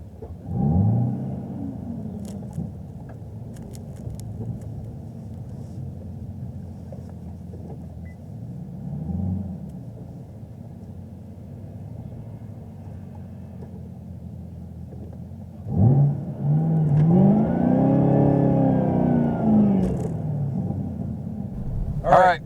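A ZL1 1LE Camaro and a C6 Z06 Carbon Edition Corvette at a drag strip for a quarter-mile race, deep engine rumble idling, then a loud rising rev and acceleration near the end, with voices talking over it.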